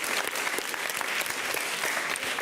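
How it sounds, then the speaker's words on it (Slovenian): Studio audience clapping for the winning primary school team, OŠ Dobje, on a cooking quiz show, a brisk continuous round of applause with individual claps standing out, no voices over it. "dajmo en velik aplavz za zmagovalke"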